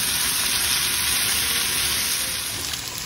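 Finely chopped garlic sizzles steadily in a hot pan as it fries toward golden brown for a restaurant-style dal khichdi, a close, even crackle with no voices.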